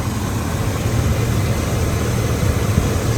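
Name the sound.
454 engine running at a high idle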